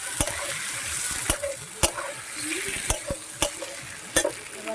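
Hilsa fish head frying with spices in a pan, a steady close sizzle punctuated by sharp rhythmic knocks and scrapes of a spatula stirring, repeating roughly every second.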